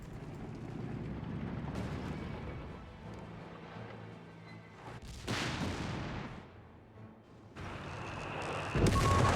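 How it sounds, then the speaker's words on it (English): Artillery bombardment in Company of Heroes 3 pounds a central victory point, with a steady rumble of distant booms and several sharper blasts that flare up loud, then trail off into a low battlefield roar. "Bombarding the center victory point here"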